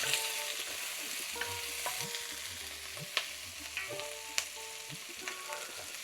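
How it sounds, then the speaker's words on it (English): A medium red onion sautés in a pan with a constant close sizzle. Scraping stirs and light clinks of a utensil against the pan recur throughout, with no speech. "So I'm just going to let that saute and take on a golden brown colour"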